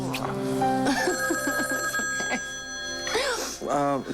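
Telephone ringing indoors in a soap-opera scene, a steady electronic ring running beneath people talking back and forth throughout.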